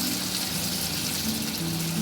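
Tadka tempering for dal palak sizzles in a home kitchen, a steady dense crackle of hot oil with spices frying, continuous and fairly close throughout.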